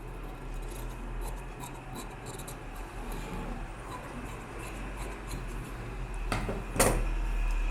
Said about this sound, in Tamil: இந்த பேக் வச்சு ஃப்ரண்ட் அப்படியே நான் கட் பண்ணி எடுக்கிறேன்.